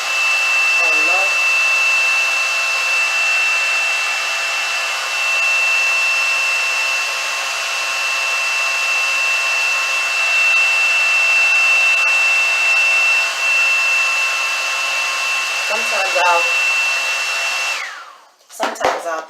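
A hair dryer on its low setting blows steadily while drying eyelash glue, a close, continuous whirring hum that holds for most of the stretch before cutting off abruptly near the end.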